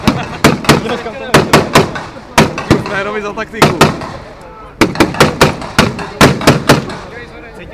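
Sharp explosive bangs from flash-bang stun devices used by a police intervention unit during a tactical exercise, firing in rapid irregular bursts of several loud cracks each, with brief talk in between.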